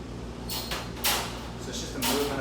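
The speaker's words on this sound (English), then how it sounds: "So it's just a movement of the door." A door sliding or swinging open and shut in a dog-training space with a Belgian Malinois, a few broadband whooshing scrapes rising over steady low hum, with a voice speaking throughout.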